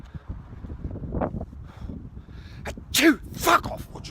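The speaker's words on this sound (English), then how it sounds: "sneezing" A person sneezes twice in quick succession near the end, loud and close, after a few seconds of low wind-like rumble and faint rustling.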